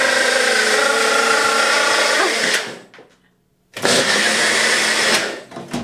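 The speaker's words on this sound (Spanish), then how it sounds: "esto es un vaso de batidora, yo lo meto aquí porque lo hago en un segundo" A blender whirs loudly, mixing protein pancake batter in its jar, runs steadily for a couple of seconds, cuts out into near silence, then starts again at full power.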